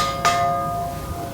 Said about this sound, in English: We have a big gong.